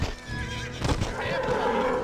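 A horse neighs and whinnies in a video game set among buffalo, with hoof clip-clop and game sounds close and loud, and a voice talks faintly underneath.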